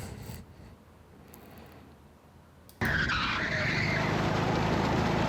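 A kart brakes hard, its tires breaking into a loud, sustained skid and squeal that cuts in abruptly after a few seconds of low engine rumble and continues steadily to the end.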